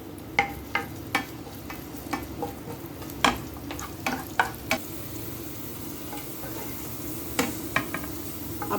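A pinch of cumin and a tablespoon of garlic sizzle in a tablespoon of hot cooking oil, a low steady fry punctuated by crisp popping spits and spatula taps, close and unaccompanied by voices.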